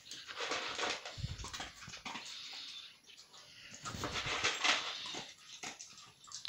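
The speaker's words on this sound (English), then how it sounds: "Storm looks like he might be enjoying his Barking Head's food." A dog eating Barking Heads dog food from a bowl nearby, with wet chewing and crunching bursts in two main spells and small whimpers between.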